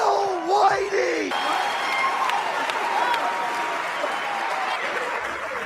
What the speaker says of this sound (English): I'm clapping too, y'all